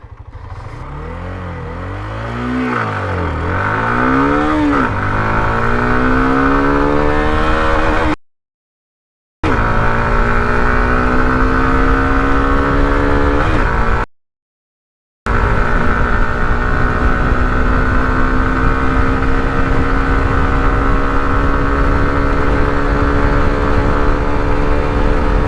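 A Hero Xtreme 125R motorcycle accelerating hard during a top speed test, its engine note climbing in pitch through several gear changes, loud and sustained, broken by two short cuts to silence.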